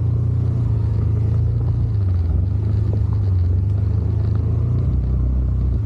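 A 4x4 vehicle grinds through muddy ground on a monsoon-season outing, its engine a steady low rumble that rises and dips, loud and close throughout, with no voices over it.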